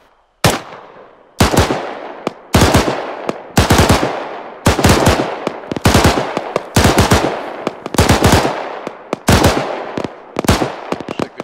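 Tracer machine-gun fire in Arma 3, loud close bursts repeating about every second across the whole stretch, each burst a tight cluster of rapid shots with no talk over it.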